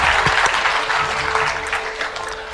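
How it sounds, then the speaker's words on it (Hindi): An audience at a formal event applauds, a dense, steady burst of clapping from a crowd that runs throughout without any voices. "जोरदार तालियों से बहुत बहुत शुक्रिया"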